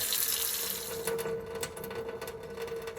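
Water pressure escaping from a Delta 1700 Monitor shower faucet after the house supply is shut off, a steady hiss and faint trickle with a few light clicks, with no talking.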